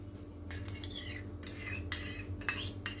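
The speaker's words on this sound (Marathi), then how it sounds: "आता आपण काढून घेऊया भाजून झालेले आहेत तीळ" Roasted sesame seeds scooped out of a pan for sesame ladoos, heard as several short scraping, clinking strokes of a utensil against the pan over a steady low background hum.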